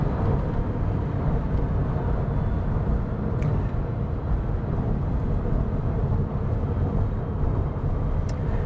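A Porsche 996 with a 4.1L engine and ported heads cruises in sixth gear at low revs. A steady, dense drone of engine and road noise holds evenly throughout, with no voices.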